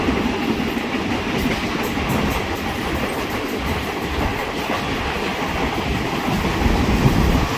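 A passenger train from Bangkok's Hua Lamphong station to Hua Hin rumbles steadily along the tracks with a dense, continuous roar and faint rhythmic clatter, heard from inside the carriage.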